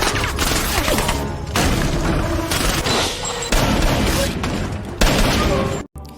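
Gunfire from a film shootout inside a building: loud, dense bursts of rapid shots and heavy booms follow one another almost without pause, ending in a brief sudden drop.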